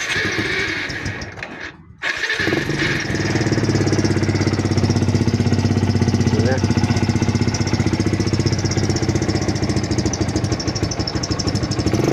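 Motorcycle engine running steadily with diesel poured into the crankcase as a flush during an oil change; a continuous loud, even drone with no talk, apart from a short dip near the start.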